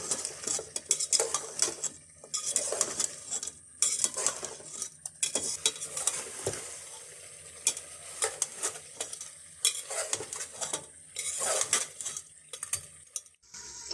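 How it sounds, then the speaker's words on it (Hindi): Beef paya (trotters) frying on high heat, with rapid metal spoon scrapes and clatter against the pot over a continuous sizzle, close and busy, pausing briefly at times. "पाए डालने के बाद हम इसको 10 मिनट अच्छे तरीके से भून लेंगे।"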